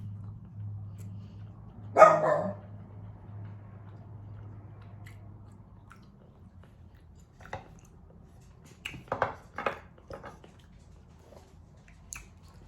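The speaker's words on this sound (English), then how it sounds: "Anything that moves, he barks." A dog lets out a single sharp bark near the start, followed by quieter crunching and chewing-like sounds later, in an otherwise quiet room.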